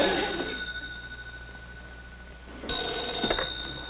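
A telephone bell rings indoors in a 1950s sitcom scene, a sustained ring fading through a quiet pause before a second ring starts, moderately loud against a faint background hum.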